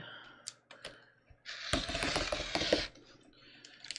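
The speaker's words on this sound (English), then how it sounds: "So I'm basically cutting it on the fold mark I made." Fabric being cut along a fold mark for a bias-cut bateau neck blouse, a few light snips early on, then a dense, loud burst of crisp shearing and rustling for over a second before quieter handling; no speech.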